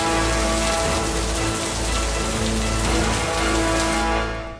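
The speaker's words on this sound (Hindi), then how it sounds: "कहीं तेज आंधी तूफान और बारिश" Heavy rain from a strong storm pours steadily in a dense, loud wash that fades slightly at the end, with no voices.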